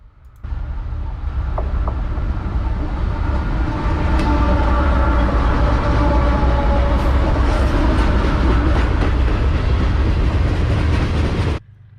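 A CSX manifest freight train rumbles steadily past near Nashville, a loud continuous roar of wheels and cars with faint rail clatter, close and sustained for about eleven seconds before cutting off, with no talk.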